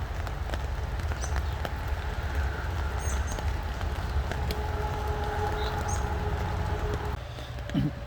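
Steady rain pattering outside an urban stealth camping shelter during a thunderstorm, a dense continuous wash of drops with faint scattered ticks and no talking.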